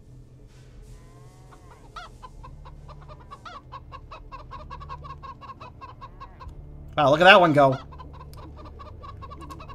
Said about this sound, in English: It was chickens.